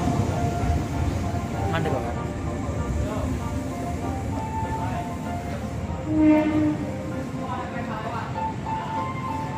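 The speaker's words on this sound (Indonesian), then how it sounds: "Jalur 1 masuk kereta api Argo Jati tambahan dari stasiun Cirebon" An Argo Jati passenger train rumbles steadily as it rolls into Gambir station, Jakarta, with a brief horn note partway through and a faint announcer voice over the station noise.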